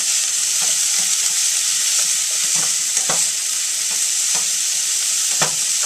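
Chicken and asparagus sizzle steadily in a skillet as a spoon stirs through them, with soft scraping strokes recurring every second or so over the constant close frying hiss.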